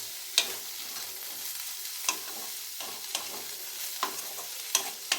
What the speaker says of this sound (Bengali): সমস্ত কিছু উপকরণ দিয়ে আরেকবার নেড়ে নিলাম ভালো করে, যাতে পেঁয়াজটা একটু ভাজা ভাজা হয়ে যায়।